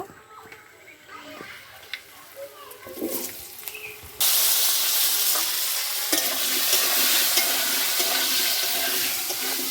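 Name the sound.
potato pieces frying in oil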